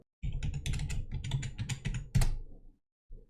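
Quick bursts of close computer keyboard typing as a MySQL root password is entered, a run of clicks with short pauses and a final firmer keystroke.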